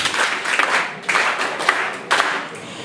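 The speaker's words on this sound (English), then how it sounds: "You deserve a standardized hand clap." Audience clapping by hand in a school gathering, a dense patter of claps arriving in several loud bursts that swell and fade, with no talk over them.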